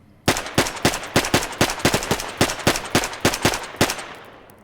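Gunfire from a new weapon in the video game DayZ: a rapid string of about sixteen loud, sharp shots in steady succession, close and alone, ending in a short decaying tail.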